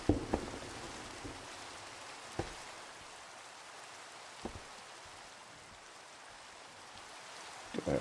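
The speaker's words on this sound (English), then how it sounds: "It can stop raining any minute." Steady rain falling in Minecraft, a soft even hiss throughout with a few brief clicks and taps at the start, midway and at the end.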